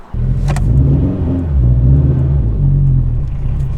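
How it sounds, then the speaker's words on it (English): A turbocharged Subaru BRZ STI fitted with an HKS turbo kit, making 290 kilowatts at the rear wheels, rumbles loud and close, its engine revving and settling in a deep, steady growl, heard from inside the car. "we are in Andrew's BRZ STI Turbo with a HKS Turbo Kit"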